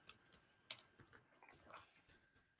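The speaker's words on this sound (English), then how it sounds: "I'm typing, so I put that on the screen." Light tapping on a computer keyboard, a quick uneven run of soft key clicks heard close and alone in a quiet room.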